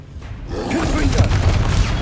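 A Confringo explosive spell blast in Hogwarts Legacy rumbles as a dense, sustained low boom, swelling after a brief quieter start and holding loud to the end, with speech-like sound mixed in.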